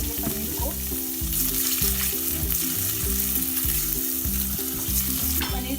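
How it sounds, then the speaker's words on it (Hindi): Paneer cubes fry in a spoon each of hot ghee and olive oil for a spinach paneer dish, giving a steady close sizzle and crackle. The sizzle holds through the whole stretch, and low rhythmic stirring or scraping sounds pulse beneath it, with no talking. "फ्राई करेंगे पनीर को।"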